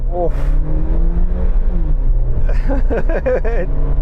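A six-wheeled automatic Suzuki Jimny accelerates hard in a 0-100 km/h test, its engine droning steadily and close, with a rising rev note and higher-pitched whine building toward the end; talk overlaps.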